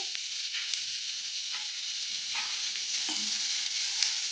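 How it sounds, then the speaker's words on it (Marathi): Chopped onion and vegetables sizzle steadily in a hot oiled pan for a crispy veg sandwich, a continuous frying hiss with occasional stirring clatters, close and moderately loud. "इथे आपण थोडेसे व्हेजिटेबल असं फ्राय करून घेऊया। पहिले आपण कांदा टाकून घ्यायचा आहे"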